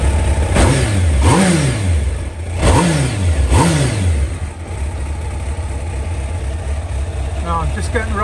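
A Kawasaki ZX12r motorcycle engine runs close by, revving up in four quick rising-and-falling bursts before settling into a steady idle, with a brief voice near the end.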